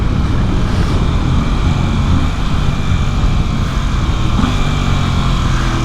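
Ducati Hypermotard 950SP motorcycle riding on a motorway, a steady loud engine drone with heavy wind rush throughout, continuous and close with no talking.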